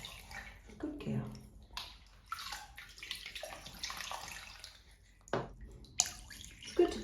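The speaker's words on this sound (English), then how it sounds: "It's good to pour the water over the toes, over the legs, over all of the body" Water is poured over a seven-week-old baby girl in a bath, with trickles, splashes and drips coming in uneven bursts, close and fairly quiet, under soft talk.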